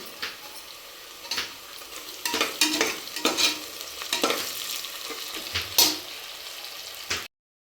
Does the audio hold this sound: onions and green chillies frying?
yes